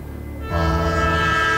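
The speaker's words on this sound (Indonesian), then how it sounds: "Ya, jadi kereta lewat." A passing train swells into a loud, steady rumble with a horn-like tone near a flyover crossing, close by and without talking.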